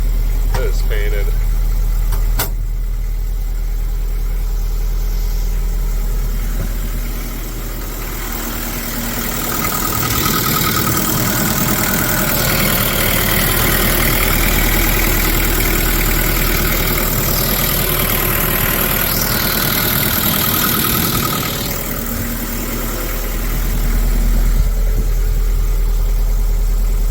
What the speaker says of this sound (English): That's on idle now, and the way to turn it off, you choke off the diesel engine